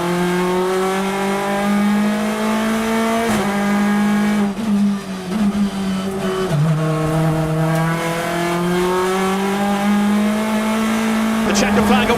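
British Touring Cars racing at Snetterton, engines droning steadily with rising and falling pitch as cars run close together, continuous and loud, with a commentator talking over the top throughout.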